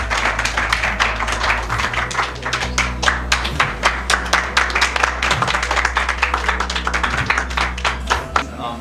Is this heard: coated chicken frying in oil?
no